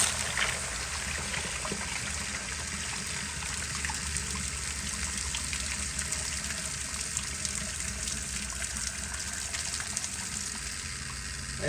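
Water overflows a miniature 10-inch prototype Berlin toilet with the supply pressure turned up, a steady close trickling and gushing flow that runs unbroken throughout.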